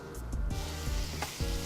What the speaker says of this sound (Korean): 이렇게 지글지글하는 소리 나요.